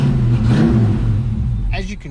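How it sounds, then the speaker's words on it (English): A car engine runs steadily close by with a low rumbling tone, and a voice speaks over it near the end. "Pop's car is running."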